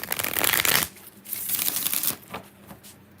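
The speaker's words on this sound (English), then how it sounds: "All right, 4 more shuffles for Thalia." Tarot cards shuffled by hand in a series of riffling, papery bursts, loud at first and then softer and choppier, close up with no talking.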